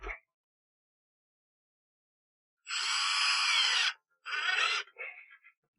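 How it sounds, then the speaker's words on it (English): A power drill drives golf spikes into the sole of a shoe, giving one loud sustained whir of just over a second, then a shorter burst and a brief final spin, all alone with no talk. "And then I'll do one with the drill as well."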